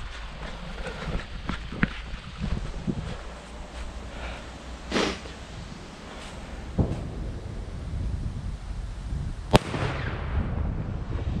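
A firecracker goes off with a sharp, loud bang over rumbling background noise on New Year's Eve, with a few smaller pops scattered before it.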